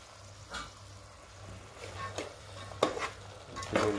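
Broad beans and chickpeas are stir-fried in a pan with a soft sizzle, and a spatula makes intermittent scraping and clinking strokes that grow louder toward the end.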